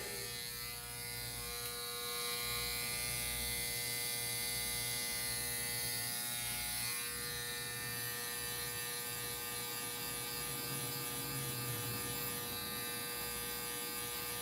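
Electric hair clippers with the lever fully open and a zero guard buzz steadily and close by while fading a boy's bald fade up toward the top of the head, holding a constant hum throughout.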